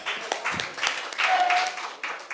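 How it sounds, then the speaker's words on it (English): An audience at a House of Representatives committee hearing claps steadily and fairly loudly, a dense patter of hands that continues throughout without pause. "A round of applause one more time, ladies and gentlemen."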